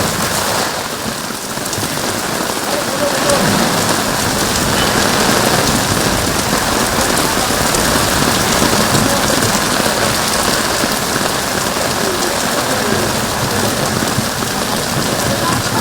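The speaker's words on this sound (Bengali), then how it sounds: "প্রবল বৃষ্টি শুরু হয়েছে কলকাতা সহ 24 পরগনায়।" Heavy rain pours steadily over Kolkata and the surrounding 24 Parganas, a loud, dense, unbroken roar of drops on surfaces lasting throughout, with no clear separate thunderclap and no one talking.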